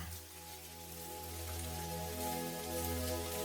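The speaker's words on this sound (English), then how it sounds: "The rain taps the window in waves" Soft rain taps on a window in a steady, gentle wash that swells slightly, faint and continuous under a low tonal hum, with no voices.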